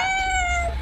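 A house cat gives one drawn-out, clear meow, close and fairly loud, trailing off at the end with no talk over it.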